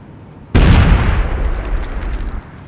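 A single loud grenade blast in Socom 4 cracks suddenly out of near quiet, then rolls off in a heavy, fading rumble over about two seconds.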